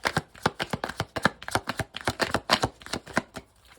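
A tarot card deck is shuffled in quick, crisp riffling bursts, a dozen or more sharp flutters in steady rhythm, close and clear with no talking.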